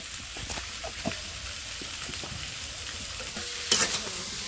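Young jackfruit fries with onion, salt and turmeric while being stirred, an even close sizzle with soft scraping and knocks of the spatula, briefly louder near the end.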